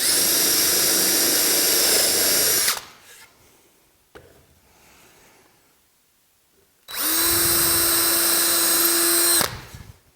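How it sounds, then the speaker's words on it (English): A power drill countersinks, pilot-drills and drives screws into sled joints: two loud sustained whirring bursts separated by a quiet stretch with faint handling noises. "I'm going to countersink, pilot drill, and drive a screw."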